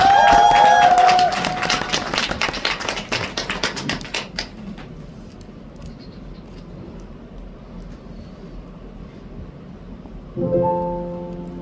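Concert audience at a show applauding loudly, the clapping thinning out and fading away over several seconds into quiet before the music begins near the end.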